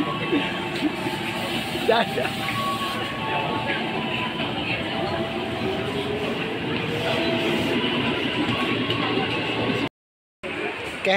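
Interior of a moving electric commuter train: a steady rumble and rattle of the carriage, with faint wheel squeal and voices murmuring, cut briefly by a short dropout.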